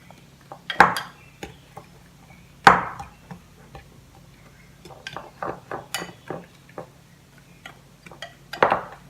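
Lemon zest being stirred into cake batter in a bowl, with scattered clinks and scrapes of a utensil against the bowl, a few sharper knocks among softer taps, close up with no talk.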